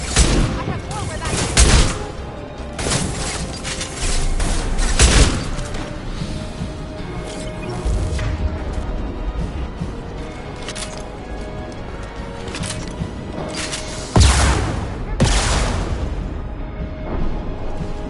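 Gunfire in the video game Mass Effect Legendary Edition, heavy repeated shots and bursts, some sharp and loud, over a constant rumble of combat, with voices calling out between the blasts.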